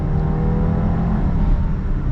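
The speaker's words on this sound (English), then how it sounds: "We get our full-on acceleration here" A 2022 VW Tiguan SE R-Line in sport mode accelerating hard, a steady loud engine drone with a low rumble, heard close and continuous without talk.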